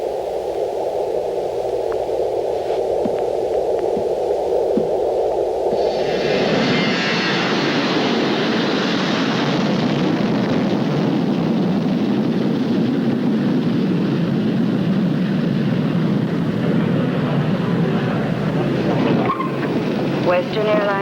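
Airplane engine at an airport, its loud, steady broadband roar swelling in after a quieter stretch and then holding at full strength for the rest of the clip.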